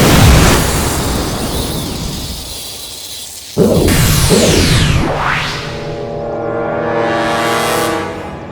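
A single explosion effect from a fantasy children's TV show bursts suddenly midway after a dense roaring build, then trails into swooshing, ringing tones that fade out.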